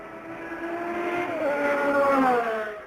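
Ford race cars at the 1968 24 Hours of Le Mans roar past, engine notes climbing in pitch as they accelerate and blend together at moderate distance, with no talking.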